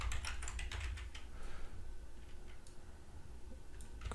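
Quiet computer keyboard typing, a steady run of close, light key clicks with no voices, from someone entering text into SCADA conveyor-control software.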